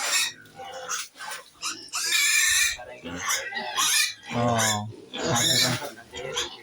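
Pigs grunt and squeal at a pig farm in Titabor, Kaliyapani, in loud, close bursts mixed with people talking.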